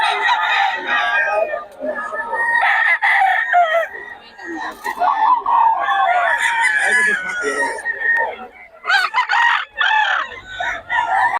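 Chickens and roosters crowing and clucking at a busy poultry market in Bocaue, several birds overlapping in loud, near calls with market voices mixed underneath.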